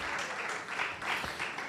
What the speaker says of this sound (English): they all deserve another round of applause